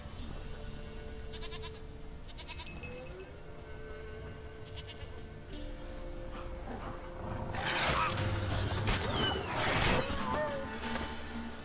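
A goat bleats in The Witcher 3 video game, heard over game music and ambient noise, with louder bursts of action near the end and no clear speech.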